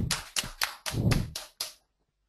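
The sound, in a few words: applause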